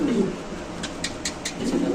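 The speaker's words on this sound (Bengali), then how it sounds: "তো দর্শক এখানে আছে একটা মুন্ডিয়ার রেড চেকার একটা মাদি কবুতর" A female red checker pigeon gives low, throaty coos at the start and end, with light clicks and rustles in between, heard close by.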